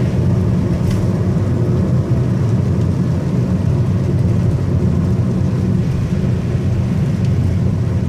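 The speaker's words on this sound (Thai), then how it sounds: "นี่ก็ฝนตกไปเรื่อยนะครับอันนี้ตกมานานแล้ว" Steady rain rumbles against an automatic car driving on a slippery mountain road, a dense continuous low roar of road and engine noise with rainfall, no voices.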